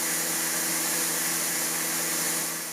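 Steady, close roar of a Buture Pro BP10 cordless stick vacuum on its second suction level, a dense rushing hiss over a motor hum, tapering slightly at the end without any voices.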